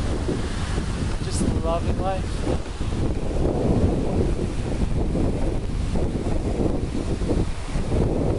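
Wind gusts and surf roll steadily along Tulum's beach strip on the Mexican Caribbean coast, a loud continuous rush with brief speech near the start.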